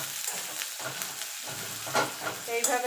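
Onions sizzle steadily in a hot pan, broken by a few scraping stirs of a spatula close by.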